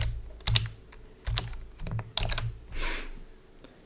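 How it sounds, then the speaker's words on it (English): Fingers type a CAPTCHA on a computer keyboard in short, uneven bursts of nearby clicking keystrokes, with small pauses between the groups. "retype another CAPTCHA"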